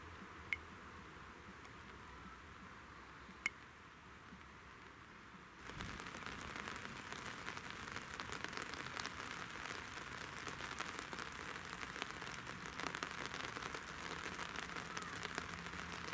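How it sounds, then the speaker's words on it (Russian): Steady rain falls at a German lake during float fishing, a continuous hiss of drops that grows denser and louder partway through, with no one speaking. "Надеюсь, дождь будет не сильный и недолго."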